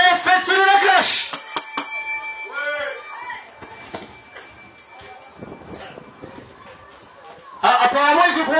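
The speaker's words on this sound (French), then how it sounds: "s'il vous plaît, faites sonner la cloche" A wrestling bell at a live bout on 14 July rings in several quick, sharp strikes near the start, ringing out over crowd noise and commentary with people talking throughout.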